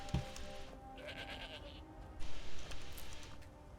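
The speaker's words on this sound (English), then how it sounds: "I now have a goat." A goat bleats in the video game Skyrim, a few short bleats over quiet game ambience, with a louder burst toward the end.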